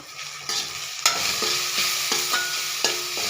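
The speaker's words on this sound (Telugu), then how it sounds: "టీ స్పూన్ అల్లం పేస్ట్ ఇవన్నీ వేసి బాగా వేయించుకోవాలి" Onions and ginger paste fry for a pasta dish, a bright steady sizzle punctuated by about six sharp clicks of a spoon scraping and tapping the pan at roughly even intervals, close by with no speech.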